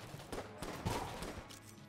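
Pistol fire in the video game Enter the Gungeon, a quick run of sharp shots spaced through a cluttered stretch of game sound, with no talk over it.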